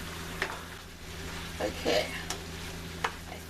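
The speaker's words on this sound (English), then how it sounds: "We want this to thicken up, so I'll let it keep boiling down until it thickens up." Black bean sauce with tofu reduces in a pan, giving a soft continuous sizzle and bubbling with a few scattered clinks and stirring scrapes, and a brief spoken word from someone nearby.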